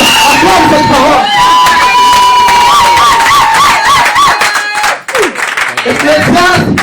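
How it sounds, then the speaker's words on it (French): A church congregation cheers, whoops and claps loudly in a dense crowd roar, with shouting voices rising over it, a brief dip near the end, then a renewed burst of acclaim. "Acclame cette parole."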